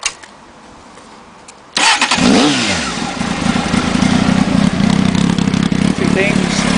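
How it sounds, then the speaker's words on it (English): A 2003 Honda Hornet 600 motorcycle engine is quiet at first, then fires up around the two-second mark and settles into a loud, steady running note with slight revving, heard close up. "That sounds just like every other Honda 600 engine"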